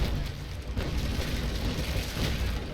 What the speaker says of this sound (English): Very nice broadside